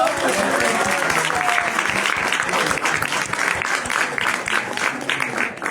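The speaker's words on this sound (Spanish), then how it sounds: "Un aplauso para Amaro." An audience at a professional talk applauds in sustained, loud, close clapping, with voices speaking over the applause.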